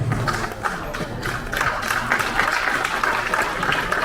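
An audience gives loud, steady applause at an Atal Foundation event in Delhi, a continuous wash of clapping lasting the whole stretch with a faint murmur of voices underneath.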